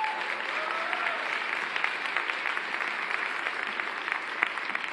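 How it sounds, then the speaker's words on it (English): A conference audience at a technology showcase applauds for five seconds, a dense, even stream of clapping from many hands with no talk over it. "I'm so happy to see many men applauding"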